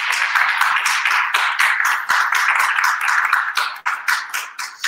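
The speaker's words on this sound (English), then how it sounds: "Please give a round of applause." An audience applauds at a Black History Observance ceremony, a dense, steady wash of many hands clapping at once, loud and close throughout with no voices over it.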